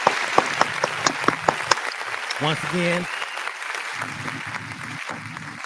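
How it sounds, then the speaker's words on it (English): On a radio talk show, a quick series of sharp, evenly spaced hand claps rings out alone before a voice starts talking. "What a hand clap."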